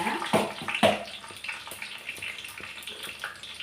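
Mustard seeds sizzling and crackling in hot oil in a pan while fish kulambu is cooked, a steady hiss with a few sharper pops near the start that settle into a softer, even sizzle.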